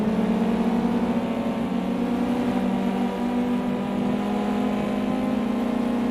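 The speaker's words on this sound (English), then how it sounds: "You hear the engine revs beginning to drop." A steady race car engine drone in the PC racing game Project CARS 2, with a constant tone throughout, slightly shifting in pitch as revs drop, with a broad hiss underneath.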